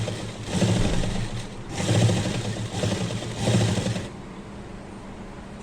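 A sewing machine stitches piping onto a blouse in three loud bursts of rapid mechanical whirring and needle clatter, separated by short pauses, before the motor stops and the room falls quiet.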